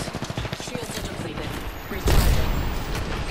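Rapid automatic gunfire in Apex Legends: a quick rhythmic burst up front, then a heavier loud shot or impact at about two seconds followed by continued dense firing.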